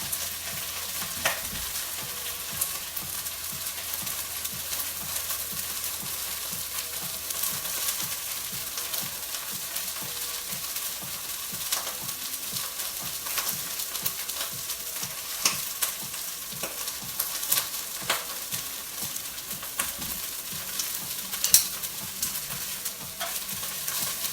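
Vegetables for beef sukiyaki fry in a pot with a steady, close sizzle. Stirring scrapes and clacks against it at irregular moments, and no one speaks.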